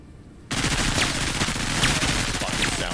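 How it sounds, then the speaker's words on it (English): Sustained automatic gunfire aimed at snipers in the tactical video game Menace, starting abruptly after a quiet moment and continuing as a loud, dense, rapid burst of shots to the end. "I'm gonna shoot those snipers some more."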